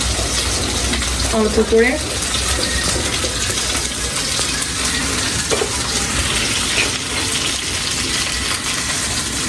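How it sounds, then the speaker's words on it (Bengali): Panch phoron spices sizzle and crackle in hot oil in a pan for cooking paneer, a steady broadband hiss running through the clip with a person talking briefly over it. "এটা তেল দিচ্ছি, পনির রান্না করার জন্য তেল দিচ্ছি, 5 ফোড়ন দিচ্ছি"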